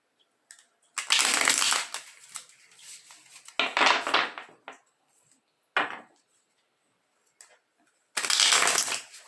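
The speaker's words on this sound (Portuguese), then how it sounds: "Enquanto eu embaralho as cartas aqui" A deck of tarot cards shuffled close up in several separate bursts of riffling and sliding, with short pauses in between.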